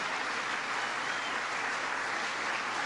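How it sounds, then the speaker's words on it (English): Audience at a political event with the Vice President in Wheeling, West Virginia gives another round of applause for a panel, a dense, even roar of many hands sustained throughout at a distance. "Can you give them another round of applause?"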